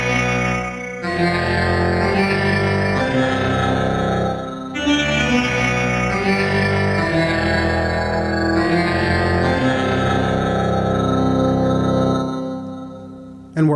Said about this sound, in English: let's bring in a reverb